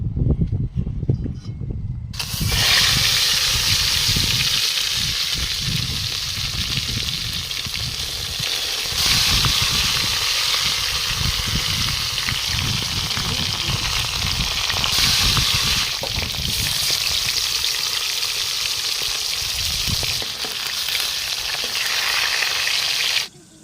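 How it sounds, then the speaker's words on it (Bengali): Leta fish frying in hot oil under a lid, a loud, close, continuous crackling sizzle that runs unbroken with no voices. "মাছটা তেলের মধ্যে দিলে ছটপট করবে"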